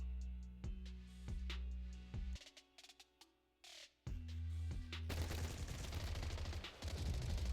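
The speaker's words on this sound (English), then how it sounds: "gunfire erupts like a relentless downpour, and sharp bursts of dust and smoke scatter across the open clearing" Gunfire in the video game Zenless Zone Zero: sharp single shots, then a pause and a dense rapid burst of automatic fire, loud over a faint musical background.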